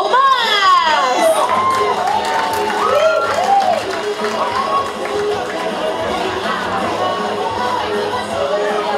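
Audience at a cosplay parade cheers, shouts and applauds for a participant, a dense, loud crowd roar with children's high shouts, mixed with an announcer's voice over a sound system.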